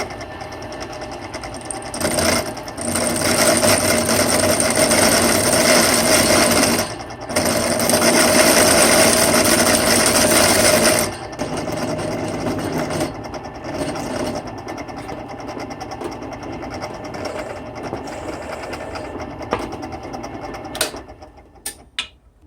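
An aluminum mallet part spins in a drill press while a file shapes it, making a continuous mechanical whir with louder grinding stretches. Short breaks and brief clicks come near the end.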